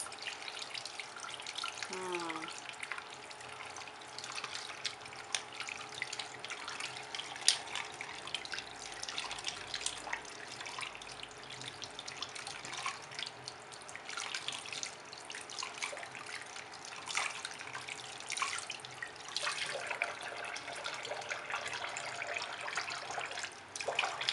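Tap water runs steadily over makeup brushes being rinsed, a continuous close splashing and trickling that shifts slightly as the bristles move under the stream.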